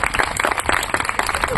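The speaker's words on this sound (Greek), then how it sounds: "Ένα μεγάλο χειροκρότημα" Big applause for a man as a beach volleyball court in Elaionas is named after him, with dense clapping from a crowd, steady and fairly close, running the whole time.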